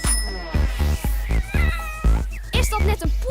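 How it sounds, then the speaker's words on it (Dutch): A cat meows several times in a steady rhythm over a backing of music or a children's song with a singing voice, the meows close and fairly loud. "Is dat net een poeske? Miauw, miauw, miauw."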